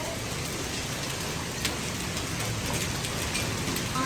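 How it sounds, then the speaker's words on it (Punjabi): Hailstones pound steadily during a storm, a dense, continuous clatter and hiss filling the whole stretch with no pauses and no voices. "ਠੱਕ ਠੱਕ ਗੜੇ ਵੱਜ ਰਹੇ ਨੇ"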